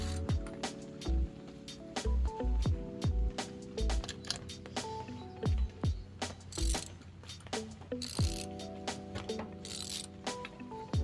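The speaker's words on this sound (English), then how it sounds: "we're going to change the spark plug" A ratchet wrench works loose an old, rough spark plug from a small engine, with irregular close clicking ratchet strokes, short pauses and metallic handling knocks, plus a couple of brief hissy bursts.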